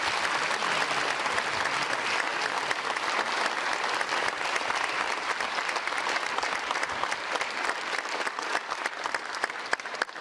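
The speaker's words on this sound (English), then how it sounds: "please give her a big round of applause" Sustained, dense applause from a conference audience at the SpaceBound event, steady and fairly loud throughout with no clear pauses.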